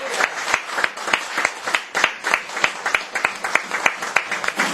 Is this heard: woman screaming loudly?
no